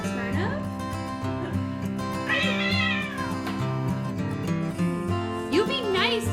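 Several cats in a cat cafe meow and yowl close by, drawn-out rising and falling cries over steady background music, with a person's voice now and then.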